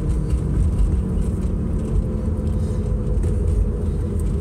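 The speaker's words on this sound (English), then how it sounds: "These old Subarus can be a little bit on the loud side." An old Subaru's engine and road noise fill the cabin while driving, a steady, loud low rumble that holds without change and with no voices.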